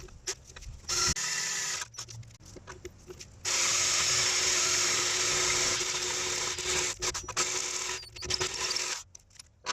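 Power drill with a step bit boring a 9/16 inch hole in a crossmember, in a first-gen Chevrolet Colorado sway bar install: short whirring bursts, then a long steady grinding run of several seconds, ending in brief stop-start spurts.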